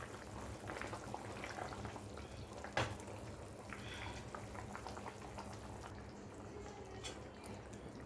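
Tamarind fish curry (fish pulusu) simmering in a pot, a steady soft bubbling and popping hiss with a brief sharper clink near the start, continuous and fairly faint, with no talk.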